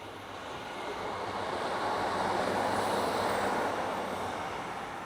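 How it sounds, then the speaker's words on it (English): A broad, steady rushing roar swells gradually and then eases slightly as a train passes close by at a railway museum platform, with no voices. "There's another train coming."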